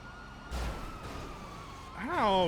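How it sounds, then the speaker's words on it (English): Police car sirens wail in a GTA NoPixel roleplay game, a rising and falling tone building louder toward the end, with brief low thumps and background game noise. "I hear cop cars."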